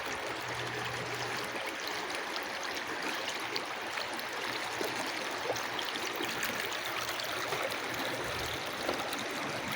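The Lewis River flows in a continuous, even rush of water with a steady trickling texture, fairly close and unbroken; no distinct slap of a branch stands out.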